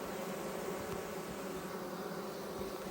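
Honey bees of a queenless colony hum steadily around an open hive during queen-cell grafting, a low, continuous droning buzz close by with no voices.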